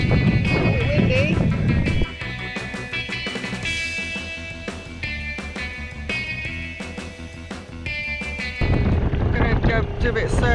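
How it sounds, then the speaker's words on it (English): Strong wind buffets a sailing boat heading to shore at sunset in high winds and big seas, a loud continuous rush with engine or hull rumble beneath. "Windy."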